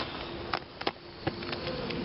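Honeybees buzz around a small homemade box during a backyard hive inspection, a steady close drone with a few louder individual passes flying near.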